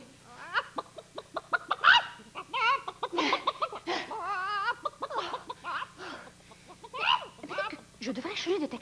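Chicken clucking from an animated cartoon, a series of squawky, chattering clucks in irregular bursts, close and fairly loud, mixed with voice-like cackles.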